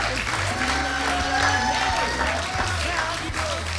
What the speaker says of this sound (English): Can we round of applause for Nadine, please?